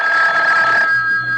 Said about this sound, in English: when I wasn't even thinking about the phone, it rang.